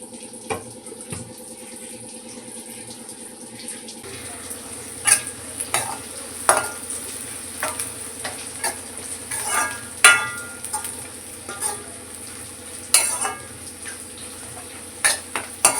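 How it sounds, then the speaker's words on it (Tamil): Onions sauté in sesame oil for a fish curry, giving a steady close sizzle with repeated sharp scrapes and clinks of a spoon stirring against the pan. "மீன் குழம்புக்கு இந்த மாதிரி நல்லா வெங்காயம் நல்லா வதக்கணும்."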